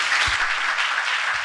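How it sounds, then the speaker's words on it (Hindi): A church congregation claps together, a dense, steady burst of applause lasting about a second and a half, close and loud, with no talking over it. "I want to clap for you."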